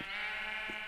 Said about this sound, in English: Ah, boy, that sheep almost got out.